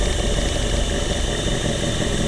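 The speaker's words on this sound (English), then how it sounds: "we're idling it around 800 to 900 rotations per minute" A 1984 Ford LTD Crown Victoria engine idles steadily around 800 to 900 rpm, a low continuous hum with a slight vibrating rumble, close and moderately loud, with no talking.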